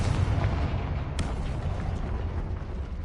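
A Confringo spell explosion in Hogwarts Legacy booms with a dense, loud roaring blast that rumbles continuously for a few seconds.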